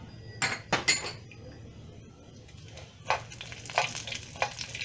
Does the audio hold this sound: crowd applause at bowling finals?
no